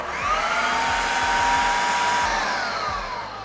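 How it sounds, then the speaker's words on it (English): Blender whirring through protein brownie batter made with nut milk and banana, a loud continuous motor drone with a slight pitch sag, running alone for a few seconds. "last thing left to do is blend this bad boy up"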